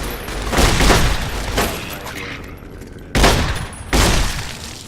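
A shotgun fires in the video game Fallout New Vegas: four heavy, booming blasts at uneven intervals, each trailing off into a rumbling decay, loud and close.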